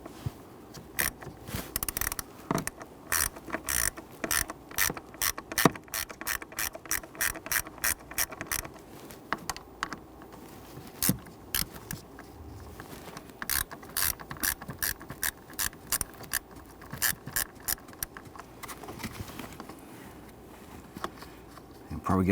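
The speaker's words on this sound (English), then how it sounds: "Using your 1/4-inch socket, you can also use a Phillips head screwdriver if you want to" A 1/4-inch socket ratchet clicks in quick, steady bursts while backing out the screws of a Hummer H3 blower motor resistor. The ratcheting is close and continuous, with brief pauses between runs.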